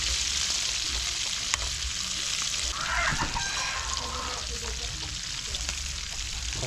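Chicken sizzles and crackles in hot oil, a continuous loud frying hiss with occasional stirring clatter.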